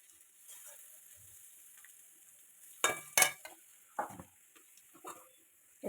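Potatoes frying in a pan, heard as quiet scattered crackles and sizzles broken by a few sharper clatters of a utensil against the pan.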